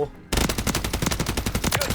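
Automatic weapon fire in the Warzone shooter game: a rapid burst of loud, close gunshots in fast even rhythm starts suddenly and keeps hammering for nearly two seconds, following a quieter moment.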